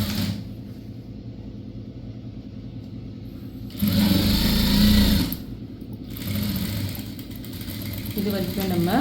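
A sewing machine stitches pieces of a box-pleated school uniform skirt, its motor running in short close bursts with quiet pauses between them.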